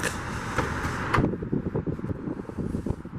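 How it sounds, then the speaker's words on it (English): Trunk of a 2020 Nissan Altima being opened, a rushing mechanical swish and a sharp latch click about a second in, then quieter rustling handling noises close by. "And opening the trunk."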